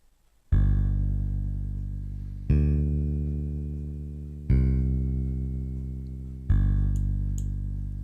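Electric bass guitar in a rock setting plays four long whole notes, each plucked attack ringing and slowly decaying before the next, deep and full, with no other instruments or voices.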